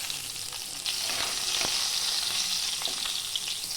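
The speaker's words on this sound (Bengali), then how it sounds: "এইবার এই তেলের মধ্যেই দিয়ে দিচ্ছি পটল এটাকেও আমি লাল লাল করে ভেজে নেব" Pointed gourd (potol) frying in hot oil with salt and turmeric in a kadai gives a steady, close sizzle with occasional stirring scrapes and no talking.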